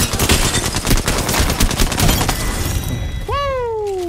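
Rapid bursts of gunfire crackle loudly and closely in the Apex Legends video game, then give way to a single descending synthetic tone sweep near the end.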